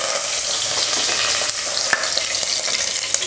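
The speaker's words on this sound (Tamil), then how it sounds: "எண்ணெய் காஞ்சதுமே 4 பட்டை, 4 ஏலக்காய், 4 கிராம்பு, 1 அன்னாசிப்பூ பொரிஞ்சதும் கொஞ்சம் கருவேப்பிலை," Cinnamon, cardamom, cloves and star anise fry in hot oil in a pressure cooker, a loud, steady, close crackling sizzle with small pops and a few light stirring clicks, and no voices.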